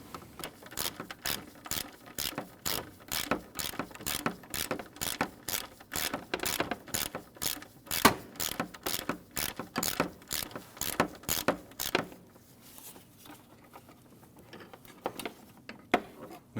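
A hand ratchet loosens a 10 mm bolt at the intake manifold of a 2012-2016 Honda CR-V 2.4L four-cylinder, giving a long, steady run of sharp clicks that slows to a few sparse clicks near the end.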